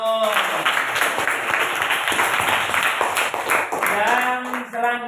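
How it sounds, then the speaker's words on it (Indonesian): Schoolchildren applaud a classmate with a steady spell of clapping that runs throughout, mixed with children's voices calling out over it. "Tepuk tangan buat temanmu."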